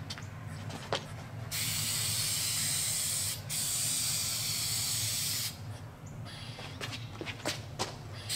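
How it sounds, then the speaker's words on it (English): Flex Seal rust-prevention coating sprays from a can in one long, loud hissing burst of about four seconds, with a brief break. Shorter spurts and faint footsteps and handling noises come before and after. "putting Flex Seal on this to keep it from rusting."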